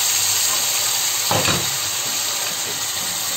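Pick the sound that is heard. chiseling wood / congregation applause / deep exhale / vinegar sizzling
vinegar sizzling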